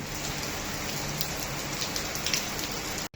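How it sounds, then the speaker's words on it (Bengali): Heavy pre-dawn rain pours down over Dhaka in a constant, dense hiss with scattered drip patter, steady and unbroken until it cuts off abruptly at the very end. "আজ ভোররাতে রাজধানীতে নামল ঝুম বৃষ্টি"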